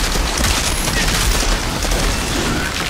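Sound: gunfire in the video game Outriders

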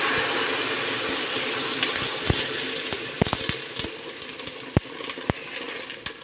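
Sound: water poured into cooking pot

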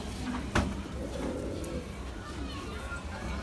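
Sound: Madrasi pigeons cooing

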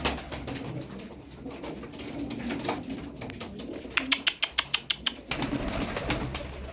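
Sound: tumbler pigeons cooing

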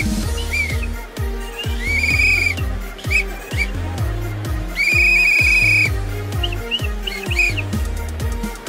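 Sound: referee blowing a whistle at an NFL game

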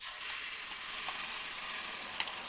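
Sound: tomato chutney added to fried garlic and cumin tempering

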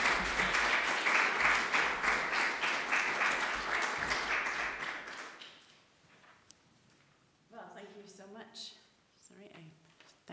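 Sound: applause after a lecture

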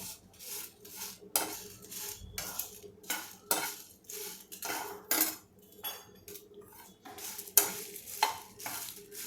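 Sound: Kashmiri red chillies roasting and stirred in a pan

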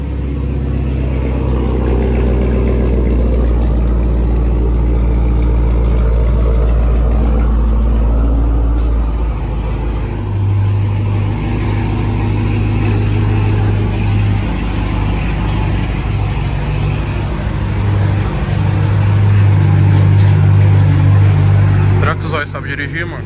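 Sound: Chevrolet Camaro engine revving

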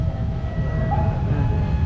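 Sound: commuter electric train passing

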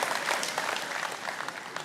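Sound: audience applause in church

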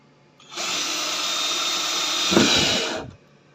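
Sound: drilling

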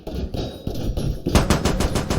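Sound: gunfire in a video game

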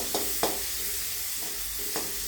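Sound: sautéing curry leaves, chilli and onion

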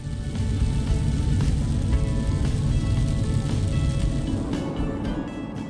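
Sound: rain drops from a desert thunderstorm

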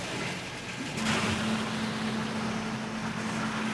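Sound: wire EDM machine pumps filling the tank

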